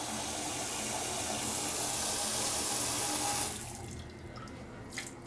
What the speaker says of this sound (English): the pump is starting to drain the rest of the water inside the water well